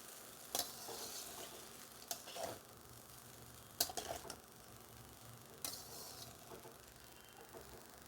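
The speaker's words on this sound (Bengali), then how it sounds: "সব এবার একসাথে মিশিয়ে নেব।" Chow mein with vegetables being stir-fried in a pan, a steady low sizzle broken by several sharp scraping and clattering strokes as everything is tossed and mixed together, no voices.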